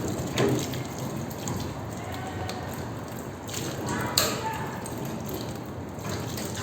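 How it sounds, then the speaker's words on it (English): Water runs steadily from a sink tap while paint palettes and a sponge roller are washed, a continuous close hiss with small splashes and a brief clatter partway through. "Turn the tap on slowly, we don't want to use lots of water."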